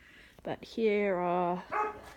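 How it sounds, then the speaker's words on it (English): A pet dog in a cluttered home garage gives a few close, loud barks and a drawn-out whine or howl, mixed with someone talking. "the noisiness that is my dog"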